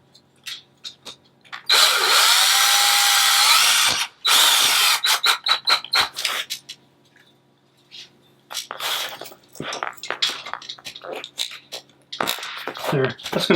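A power drill drives self-tapping snap studs into a pontoon boat bimini frame, with a long, loud whir followed by shorter bursts and clicks, and a voice talking between them.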